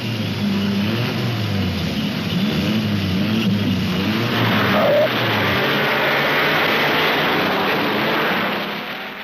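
Mercedes Grand Prix race cars with streamlined bodies roar past on a fast circuit like Reims, a loud sustained engine drone rising and falling as the cars rush by, with wind buffeting the microphone.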